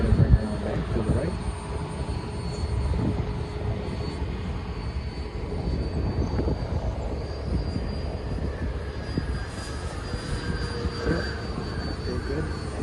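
E-flite Habu STS electric RC jet flying around outdoors, a steady whirring ducted-fan hum that drifts with distance under gusty wind noise, with faint talk in the background.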